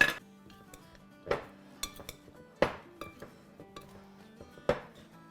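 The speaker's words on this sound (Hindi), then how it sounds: "अब इसको हम अच्छे से मिक्स करेंगे" Chana chaat tossed and mixed in a dish, a spoon striking the bowl in a series of sharp clinks and knocks every second or so, close and alone.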